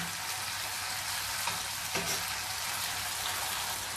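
Tofu slabs deep-frying in a pot of oil until crisp, a dense, steady hiss of bubbling oil with faint crackles, close and even throughout, without speech.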